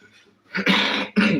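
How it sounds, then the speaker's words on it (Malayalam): A person coughs twice close up, two short harsh bursts after a faint breathy lead-in. "ചുമ പിടിച്ചു സോറി"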